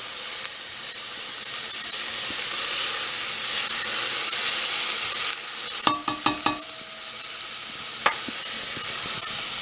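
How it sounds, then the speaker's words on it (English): Onions and garlic sweating in a frying pan, a steady close hiss and soft sizzle throughout, with a few sharp clinks of a utensil against the pan near the middle. "now in a pan I have my onions and my garlic. We're going to just let that sweat out a little."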